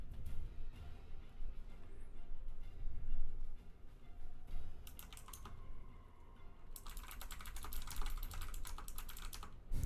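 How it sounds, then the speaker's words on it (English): Someone types on a new computer keyboard, producing close, rapid clicking in bursts separated by short pauses. A quieter stretch opens the passage, and a long dense run of keystrokes comes near the end over low background noise. "I'm sorry for the typewriter. I recently got a new keyboard."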